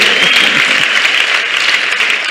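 Steady audience applause at a lively family celebration with music, dense and loud throughout with no gaps, a continuous wash of many hands clapping close by.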